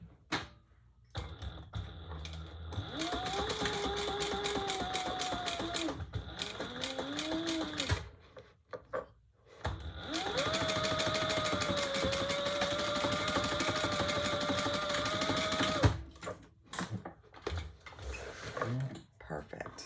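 A sewing machine stitches a leather tote bag in two long steady runs of fast mechanical whirring, with brief pauses and quieter stretches between them and a voice speaking briefly.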